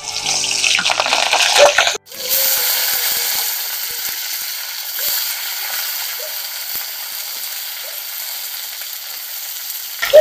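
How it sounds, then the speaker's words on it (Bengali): Cauliflower and potatoes going into hot oil to fry: a loud sizzle and clatter at first, a sharp break, then a steady hissing fry that carries on evenly and close by, with no voices. "এবারে আমি এই তেলের মধ্যে ফুলকপি আর আলুগুলোকে একটু লাল করে ভেজে নেব।"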